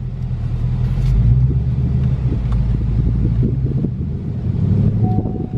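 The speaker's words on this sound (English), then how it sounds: "We're just driving in the parking lot." A 2020 Ford Mustang GT rolls slowly through a parking lot at night, with a low, steady engine rumble and some wind noise. No one speaks.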